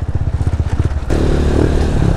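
A motorcycle rides over a rough, potholed road heading onto gravel, its engine pulsing steadily and loudly up close. Partway through the rumble turns into a denser, rattling wash of road and wind noise.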